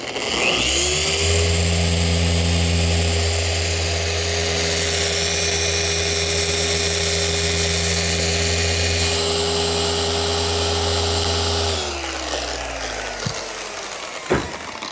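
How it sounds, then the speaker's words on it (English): A steady, loud polisher whine with a strong low drone runs for about twelve seconds while compounding a car hood with a coarse pad, then winds down and stops, leaving quieter background clatter. "he's sanding the hood, and I'll use the coarse compounding pad"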